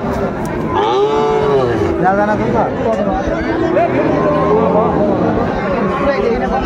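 A Sahiwal bull calf moos at a crowded cattle market, with long drawn-out lowing calls repeating over constant chatter and bargaining voices nearby.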